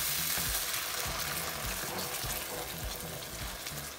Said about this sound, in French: On va verser la sauce tomate.